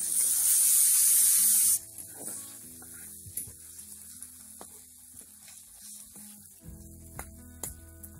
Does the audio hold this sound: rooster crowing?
no